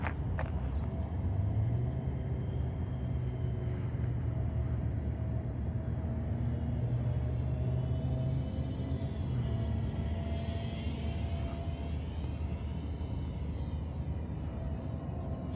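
A 500mm Volantex F4U Corsair RC model plane flies overhead, a steady, moderate droning buzz whose pitch slowly rises and falls as it passes, with no voices.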